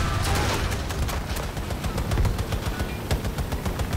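Rapid automatic gunfire from a weapon in the video game Battlefield 2042, loud, dense bursts of shots crackling back to back with battle noise and no clear talk.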